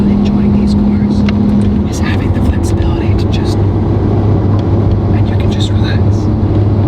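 A Lamborghini Aventador V12 fitted with a Valvetronic exhaust drones steadily from inside the cabin while cruising in fifth gear, a loud, constant low engine hum that fills the whole stretch, with faint clicks above it.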